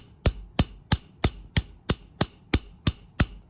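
Metal hammer drops onto sheet metal for texturing in ten sharp, evenly spaced taps about a third of a second apart, each a bright close tick with a short ring, no talk.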